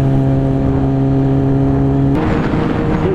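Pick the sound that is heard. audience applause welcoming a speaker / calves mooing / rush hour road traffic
rush hour road traffic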